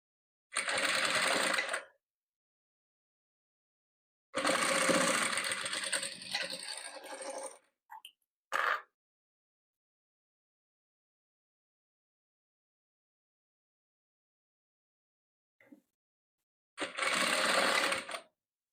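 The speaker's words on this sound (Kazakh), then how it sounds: "Енді бұлай, мына 3-ші және 4-ші қабырғасына ақ тігеміз." Sewing machine stitching five-colour patchwork squares, sewing white fabric along the third and fourth sides: close, steady motor whirring in four bursts of roughly one to three seconds each, one very short, separated by silence.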